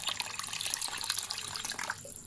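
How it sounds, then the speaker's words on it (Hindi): About two glasses of water pour steadily into a mixed, spiced curry base, a close, continuous splashing rush that tapers off near the end. "2 ग्लास के करीब हम पानी ऐड कर देते हैं"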